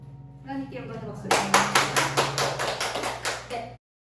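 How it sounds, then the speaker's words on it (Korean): A church congregation claps in a rhythmic burst of about ten even, fairly close hand claps, following a spoken line with held organ or keyboard tones sustaining underneath. "하나님께 영광을 박수."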